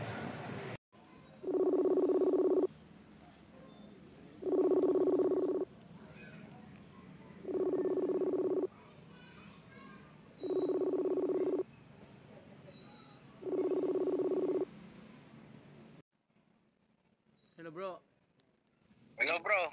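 An outgoing phone call rings back five times, each long tone evenly spaced by silence over a faint hum, before the line clicks and a man answers and starts talking.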